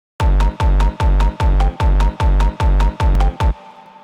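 Distorted house kicks layered with short plucked synth notes, eight punchy hits in a steady even rhythm, loud and close, ending with a faint decaying tail.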